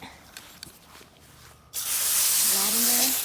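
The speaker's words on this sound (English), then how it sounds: "I kind of spray it until it puddles a little bit." A garden hose sprays water onto a garden bed until it puddles, a loud, steady rushing hiss that bursts in suddenly after a quiet stretch and holds to the end.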